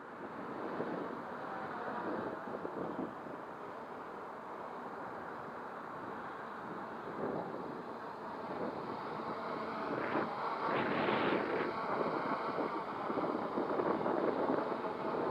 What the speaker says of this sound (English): the high amount of wind that we've got here